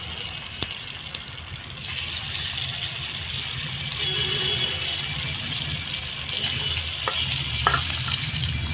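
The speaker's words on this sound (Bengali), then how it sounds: "এই অল্প তেলে আমি পনিরটাকে সবটা হালকা করে আমি ভেজে নেব।" Paneer pieces frying in a little oil in a kadai give a steady, close sizzle and crackle that runs unbroken, with a few brief clinks and stirring sounds and no talking.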